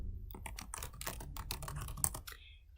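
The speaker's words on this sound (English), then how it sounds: "Typing in a password." Rapid, uneven keystrokes on a computer keyboard as a password is typed during Windows Server 2019 setup, a close, steady run of clicks with no voices.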